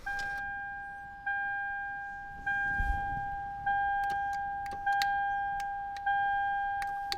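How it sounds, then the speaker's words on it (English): Replacement electric motor in a Lexus, a steady high tonal whir repeating in even pulses about every second, quiet and close, with sharp clicks scattered through. "now I put this here in the replacement motor, and I want to just check whether it does anything"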